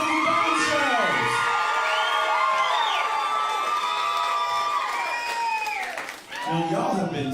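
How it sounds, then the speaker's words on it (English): A live burlesque show crowd in St. Louis whoops, cheers and claps in a loud sustained roar of overlapping shrieks and yells, dipping briefly near the end before swelling again. "Give yourselves a round of applause for being here tonight."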